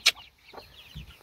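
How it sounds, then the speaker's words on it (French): A Pekin bantam hen about to lay an egg gives a few soft, scattered clucks, close and fairly quiet, with a brief sharp high note at the start. "il y a une poule pékin qui va pondre un œuf là"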